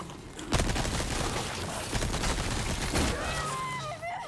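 Rapid gunfire from the Resident Evil 4 Remake video game fills the moment, dense overlapping shots and booms in a loud continuous barrage, with a brief burst of gunfire near the start and a voice yelping faintly toward the end.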